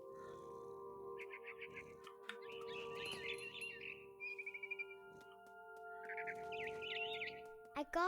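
Bird chirps ring out in the video game What Remains of Edith Finch, short repeated tweeting bursts over a steady hum of ambient music, with a soft voice speaking in between.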